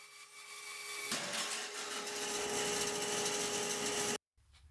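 A bandsaw fitted with a 1/4-inch blade cuts through thick wenge wood, a steady loud rasping drone that starts after a quiet second, holds for about three seconds, then stops abruptly.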